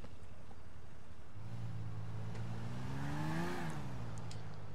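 A motorcycle engine in GTA 4 revs up with a rising, then falling tone against a steady noisy background, close and moderately loud.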